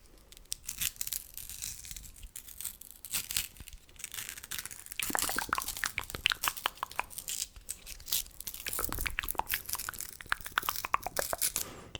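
Close, crisp tearing and crinkling of a blackcurrant chewing gum wrapper, a dense run of sharp rustles and crunchy bursts that thickens midway, with no talking.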